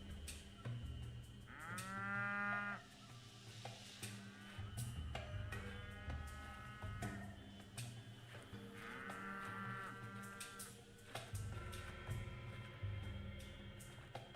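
Highland cattle in the video game Pathologic 3 Demo give several drawn-out moos, some clear and mid-loud, spaced out over a low ambient game backdrop with no talking.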